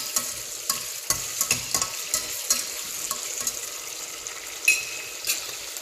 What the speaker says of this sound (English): add your tomatoes. Stir everything together.